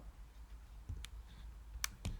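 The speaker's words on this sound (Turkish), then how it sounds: "klavyemizde bulunan F9 tuşuyla" Key presses on a computer keyboard, a few separate sharp clicks spaced irregularly against a quiet background.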